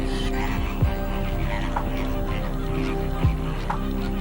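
Flamingos calling at Dhanushkodi in Ramanathapuram, heard as a few honking, goose-like calls over a steady dense background of a large flock, all at moderate distance.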